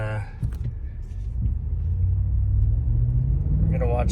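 A Ford Super Duty Tremor pickup with the 7.3-liter Godzilla V8 accelerates moderately from a stop while towing, its deep engine rumble rising and holding steady, with brief talk at the start and end.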